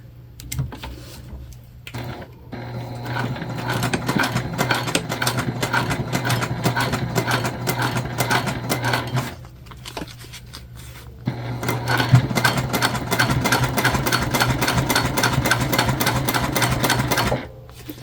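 A sewing machine top stitching upcycled denim from old jeans runs in two long steady rattling bursts, close and even, with short pauses between, and no talk.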